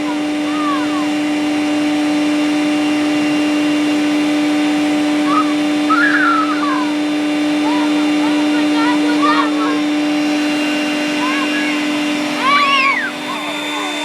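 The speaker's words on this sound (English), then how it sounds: "Okay, I'm gonna put this blower nozzle on." A PowerSmart 40v cordless leaf blower with its nozzle fitted runs at a steady, loud motor whine throughout, while short voices or squeaky chirps break in over the hum.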